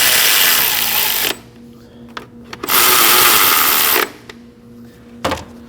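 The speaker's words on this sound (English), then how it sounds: "Now we can go ahead and get these 3 10mm bolts snug" Power tool whirring in two sustained bursts with a short pause and a brief blip, as three 10mm bolts are snugged on the starter of a 2011-2016 Kia Optima; close and loud.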